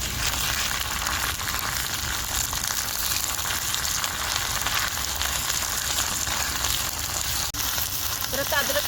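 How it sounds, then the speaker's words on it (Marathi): Ginger garlic paste fries with browned onions in a pan for dried motka fish, giving a steady, dense sizzle that runs unbroken and fairly loud throughout, with faint stirring scrapes near the end and no speech. "अद्रक लसूण पेस्ट मी मिक्स करून घेते"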